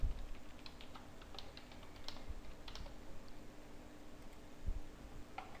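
Soft, scattered keystrokes tap on a computer keyboard, quiet and close, with a low steady hum underneath.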